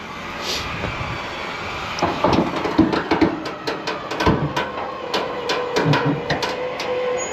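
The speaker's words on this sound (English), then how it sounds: "Let the winch do the work. Let's see, winch in." Truck winch reeling in to pull a burned dumpster, a mechanical whir with a rapid series of clicking, ratcheting knocks and creaks, fairly close and uneven in loudness, with no talking.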